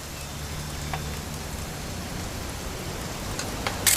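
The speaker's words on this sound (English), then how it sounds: "It's gonna rain the whole weekend, isn't it?" Steady rain falls in the video game What Remains of Edith Finch, a continuous broadband hiss with scattered droplet ticks, fairly loud and even, with no talking.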